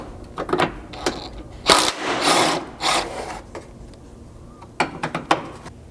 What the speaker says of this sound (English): you're going to need a 10mm socket to get 2 bolts out here